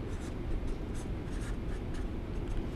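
A math equation being written out, a close, steady scratching of a pen or marker with short repeated strokes and faint taps. There is no talking.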